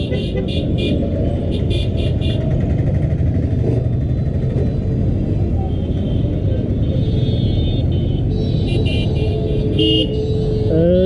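A busy street at Nathullabad in Barisal, with autos, totos and rickshaws, gives a loud, constant traffic rumble close by, with short horn toots breaking through now and then.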